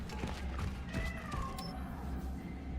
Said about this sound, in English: I hear like a cat.